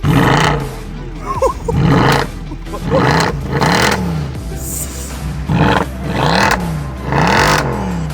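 A German Mercedes-AMG C63 W204 with a 6.3-litre naturally aspirated V8 revs loudly and close up, in about five sharp rises and falls of engine pitch with short pauses between them.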